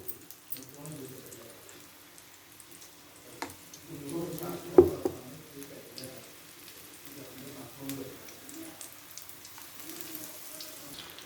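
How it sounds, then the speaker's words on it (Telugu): Chilli bajji fritters going into hot oil, with a soft sizzle and bubbling frying that swells into a sharper burst midway, a few clinks scattered through, while a person talks over it. "చూడండి ఈ విధంగా ఆయిల్ కాగింది. ఇప్పుడు బజ్జీలు ఇందులో వేసుకుందాం."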